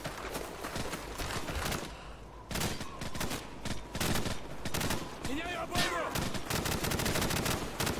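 Sustained covering gunfire in Call of Duty Modern Warfare, loud continuous rattling bursts of automatic weapons from several guns, dense and unbroken through the whole stretch, with shouted voices heard among the shots.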